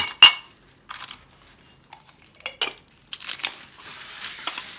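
Scattered close clinks and rattles of dishes being handled, with bright ringing taps and a papery crinkle between quieter gaps.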